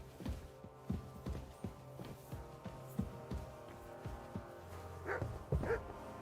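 A dog barks repeatedly in the video game Kingdom Come Deliverance II, a series of short moderately loud woofs at irregular intervals, followed by a few higher yips and whimpers near the end.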